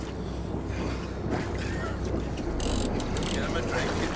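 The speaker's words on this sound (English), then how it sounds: "I want to hear that reel turning." Fishing reel turning on a boat, a close mechanical clicking and whirring with some fainter background noise and a few brief bursts of sound.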